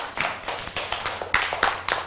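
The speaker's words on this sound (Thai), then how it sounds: "ปรบมือให้เพื่อนหน่อย" Young second-grade pupils in a classroom clap together for a classmate: a quick, rhythmic run of about eight distinct group claps, close and moderately loud, with a faint steady hum beneath.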